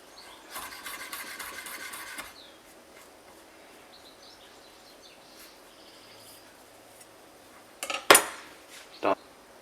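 A knife chops food finely on a chopping board in a quick, rhythmic burst of close taps, followed by quiet and then a couple of sharp clatters of utensils.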